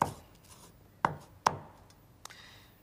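A cleaver cuts grouped, flattened spring onions on a board, with three or four sharp, separate chops close up and quiet between them.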